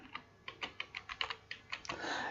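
Quick, evenly spaced keystrokes on a computer keyboard typing a chart title in Excel, a steady run of crisp clicks ending in a longer press with a brief rustle, close and clear, no voices.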